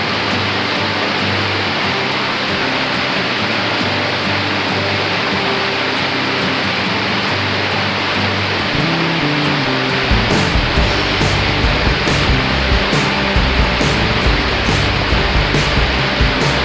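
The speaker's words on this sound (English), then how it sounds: "Just want to show you my sluice box run. Nice little waterfall." Lots of water rushing through a gold sluice box at an old mining camp and spilling off it like a small waterfall, a loud, steady broadband roar close by for the whole stretch, no talk.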